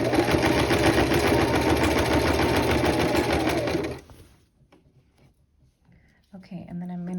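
A sewing machine stitches bias tape onto a neckline in a loud, fast, steady run that stops abruptly, followed by quiet handling clicks and a brief resumed rattle.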